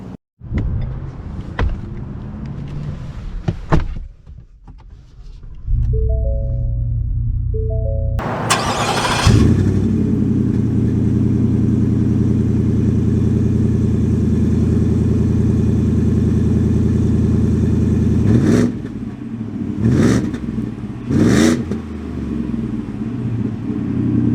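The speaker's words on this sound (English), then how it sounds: "So we are setting off here in the Rocky Ridge K2 F-150." A 2022 Ford F-150 Rocky Ridge K2 pickup truck starts up, then drives off with a steady, loud engine rumble heard from inside the cab, with a few brief clicks and knocks near the end.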